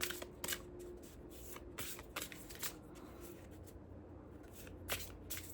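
Tarot cards shuffle by hand in quick, crisp riffles and soft slides, close and quiet, with short pauses between bursts and no talking.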